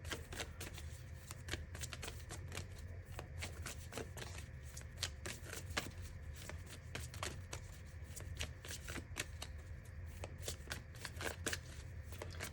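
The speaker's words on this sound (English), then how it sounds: "Let's get one Moonology card for Libra." Moonology oracle cards being shuffled by hand, a long run of rapid crisp riffling flutters and soft slaps, close and continuous over a low background hum, with no talk.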